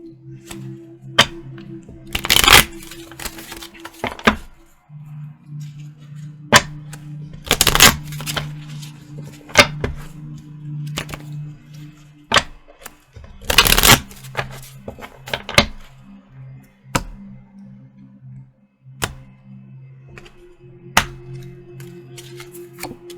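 Island Time Wellness Love Oracle cards are shuffled by hand in repeated sharp riffling bursts and scattered soft clicks, close and alone against a faint steady background hum.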